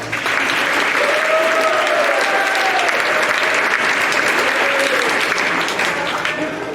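Sustained, dense applause from a large audience at a school event honoring a football team with a 5-0 record, steady and even throughout with faint voices mixed in.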